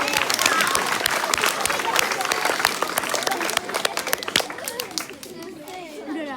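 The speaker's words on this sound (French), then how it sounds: "On applaudit Laïla, s'il vous plaît." Audience at a hypnosis show applauds a participant, brisk sharp clapping from a crowd with children's voices mixed in, thinning out toward the end as chatter takes over.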